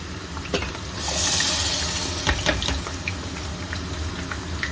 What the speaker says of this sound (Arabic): هنزل عليه بصلصه الطماطم اهي